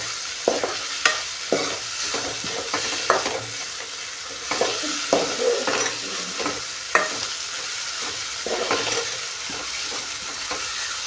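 Onions and tomato frying in a pan for a cauliflower and potato curry, a close steady sizzle punctuated by irregular spatula scrapes and taps against the pan, with no voices.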